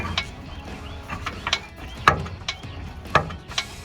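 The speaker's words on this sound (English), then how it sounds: "Once it's lined up, you can raise the jack." Car jack being raised under a 2007-2018 Silverado 1500 during a lift kit install, a series of sharp mechanical clicks and ratcheting clunks at uneven intervals, close by.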